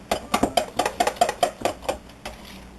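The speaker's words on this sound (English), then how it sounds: "I'm stirring the rest of that in." Spoon clinks repeatedly against a bowl while pink stuff dessert is stirred, about a dozen quick, bright, close knocks in a steady rhythm that fade out toward the end, with no talking.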